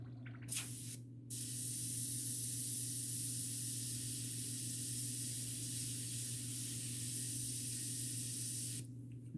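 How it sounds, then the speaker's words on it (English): Airbrush spraying paint onto a 1/4-scale cat sculpture, a loud continuous close hiss lasting several seconds after a brief initial burst, with no speech. "I'm just mixing my airbrush down here."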